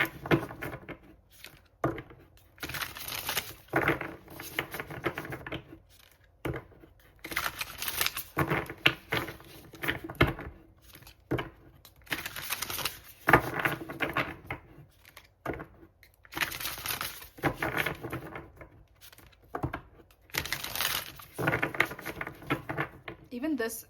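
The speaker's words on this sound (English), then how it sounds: "let me shuffle this" Tarot cards shuffled during a pick-a-card reading, with bursts of crisp riffling and papery slaps repeating in clusters over about twenty-four seconds, recorded close, with stretches of talk between the bursts.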